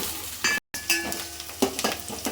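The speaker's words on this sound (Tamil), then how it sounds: "நம்ம இந்த உள்ளியை இதில் போட்டு வதக்கிக்கலாம்." Onions sautéing in a pan as the base of a South Indian crab curry, a close steady sizzle with scattered clinks and scrapes of stirring, briefly cut to silence partway through.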